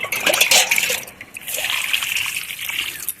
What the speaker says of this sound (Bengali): আজকে আমি এই সব গাছগুলোতে আমি দিয়ে দিচ্ছি এই গুড় জলটা